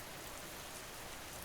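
Steady, dense rain pours evenly as a continuous broadband hiss with no breaks, no voices and no other sounds.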